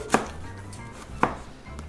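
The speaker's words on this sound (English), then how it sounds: "Thinly slicing, not too thick but not too thin" Two sharp knife cuts through a yellow onion on a cutting board, clean separate chops about a second apart with a quiet kitchen background.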